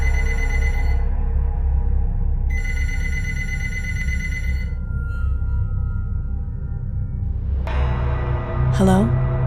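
A telephone rings in repeated electronic bursts with pauses between them, steady and fairly loud over a low background hum, ending with a short chirping tone.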